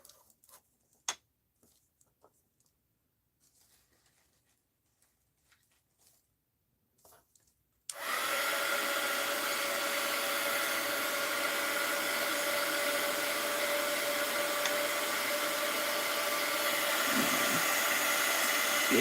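A few faint ticks and light clicks sound first, then a heat tool starts abruptly and blows a loud, steady whooshing hiss for the rest of the time as it warms wax for wax seals.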